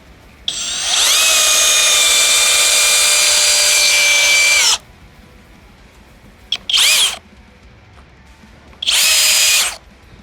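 A FLEX hammer drill drives a 6-inch by 1/4-inch structural lag fastener into wood, giving a loud, close, rising motor whine for about four seconds, then two short bursts of the drill.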